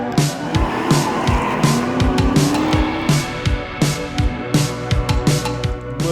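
Drift cars at a weekend banger drift event at a private invitational, engines revving hard with rising and falling pitch and long tire squeals, loud and close as cars slide past repeatedly.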